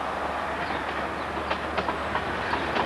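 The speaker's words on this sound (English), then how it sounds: "which is still carrying trains using the same gauge that Stephenson chose for his railway that day" A train rumbles steadily past over a bridge with faint rhythmic clacks of wheels on rails, a continuous mid-distance roar with no voices.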